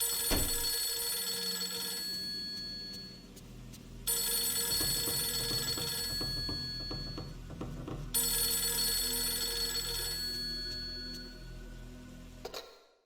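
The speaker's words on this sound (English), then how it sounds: "need to answer the phone, whoever it is." A telephone rings in the horror game Fatal Frame 3, three long loud bursts of electronic bell tone separated by short gaps, close and alone, ending abruptly as it is answered.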